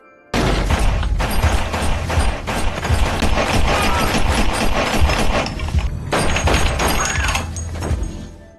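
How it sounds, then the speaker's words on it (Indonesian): Gunfire in a shootout from a film scene, a dense, loud barrage of shots and impacts running continuously for several seconds with a brief lull near the end, no talking. "Ketika Jimmy masuk ke dalam bersama Roba, terjadilah baku tembak di antara mereka."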